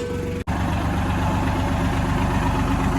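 A farm tractor used for rotor tilling idles at home with a steady, loud low engine rumble, briefly cut by a short dropout near the start, with no talking.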